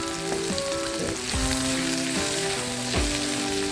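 Lump asafoetida sizzling and frying in hot oil for pirandai thuvaiyal, a steady loud crackle throughout with a few soft stirring bumps, heard up close with no talking.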